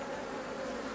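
Honeybees buzz at a beehive in spring, a dense, steady drone of many wings, close and continuous, with no voices over it.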